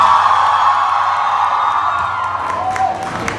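Concert crowd at Foro La Paz in Mexico City cheering, whooping and shouting after a band's call-out between songs, a loud continuous roar with scattered high yells and no clear speech.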